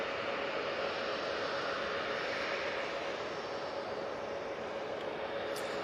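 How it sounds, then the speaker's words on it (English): A Gulf Air Boeing 787-9 Dreamliner from Bahrain arrives at Manchester Airport, heard as a steady, hissing jet roar at moderate level, continuous and unchanging, with no voices. "we have the Gulf Air 787-9 Dreamliner coming in from Bahrain"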